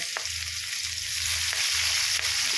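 Khoira fish frying in oil in a wok, a dense continuous sizzle that stays loud and close for the whole stretch, broken only by a few faint knocks, with no voices.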